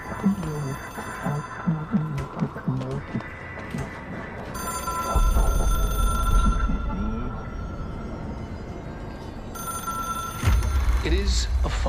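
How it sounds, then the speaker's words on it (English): An old-style telephone bell rings in bursts within the video game Control, alongside a low rumbling ambience, with someone speaking over parts of it. "It is a phone."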